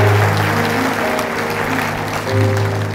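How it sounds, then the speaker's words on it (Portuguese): A church congregation applauds its elders: dense, sustained clapping from a large crowd, loud and steady for a few seconds, with low hum underneath. "Receba mais uma vez o aplauso dos nossos anciãos"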